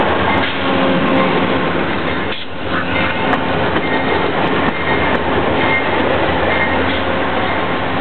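An Amtrak train pulls into Exeter station with a steady, loud rumble of wheels and engine, faint squeals and clanks on the rails, and no voices.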